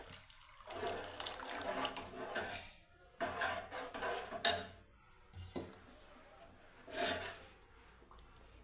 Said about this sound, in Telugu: ఇప్పుడు పాలు పోసేస్తాను ఈ కాసి చల్లార్చిన పాలు